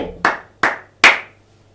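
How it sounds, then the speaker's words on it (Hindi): Three sharp, close hand claps from a podcast host in a quiet room, evenly spaced about 0.4 seconds apart, each with a brief decaying ring. "इसके लिए मैं ताली इसलिए बजा रहा हूं"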